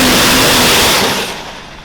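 A Cummins diesel truck launches off the trans brake at a drag race, giving a loud, dense roar right up close that fades over about a second.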